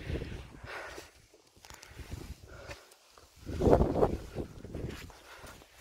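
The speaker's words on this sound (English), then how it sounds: "It's a bit windy up here." Wind buffets a microphone on an exposed UK hilltop during a hike, gusting in uneven rumbling bursts that swell loudest midway, with no speech.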